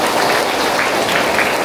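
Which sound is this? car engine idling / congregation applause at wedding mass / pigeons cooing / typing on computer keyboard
congregation applause at wedding mass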